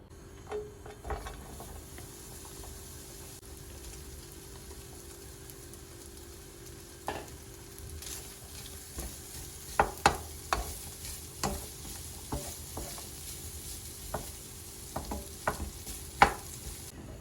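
Lamb tail fat melting and frying in a pan, a low steady sizzle with occasional scraping and tapping of a utensil that grows busier toward the end, quiet and without speech.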